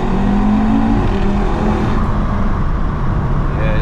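A stage 2 tuned Audi RS3 on a night drive gives a loud, steady engine drone from inside the car, with low rumble and road noise filling the whole stretch.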